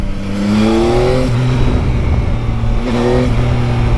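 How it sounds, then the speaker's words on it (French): A Yamaha Tracer 9 GT motorcycle engine with stock exhaust revs loudly and close, rising in pitch twice with a steady idle rumble between the bursts. "je trouve qu'il fait du boucan pour un pot d'origine"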